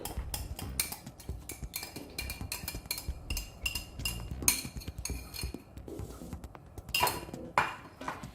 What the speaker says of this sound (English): I'm just going to mix this egg yellow well.